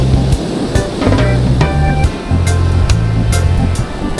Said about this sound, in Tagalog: Grabe, lalaki ng alon.